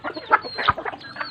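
A rooster gives short, close clucks in a quick, uneven run of soft calls, heard alone without talk.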